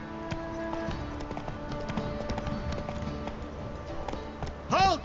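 Roach, a horse in The Witcher 3, gallops in a steady quick clip-clop of hooves under game ambience, with a brief louder swell near the end.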